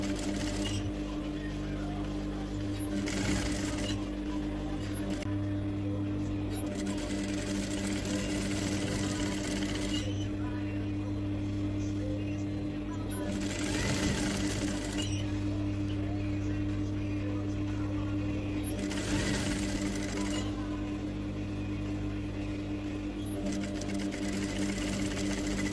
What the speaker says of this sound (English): I'm closing the center back seam, and then sewing the front seam up to the marked point.